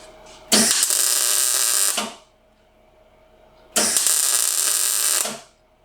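MIG welding on the body of a 1975 Jaguar XJ-S: two loud crackling bursts, each about a second and a half long, close up, separated by a quiet pause with a faint hum.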